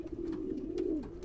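Racing pigeons kept for breeding coo in a single close, steady, low throaty call with no talk over it.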